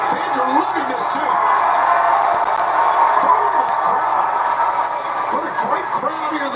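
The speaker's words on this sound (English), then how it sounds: "What a great crowd here at the Tacoma Dome." Wrestling crowd at the Tacoma Dome, a dense, sustained roar of cheering and shouts filling the arena, with a commentator's voice talking over it.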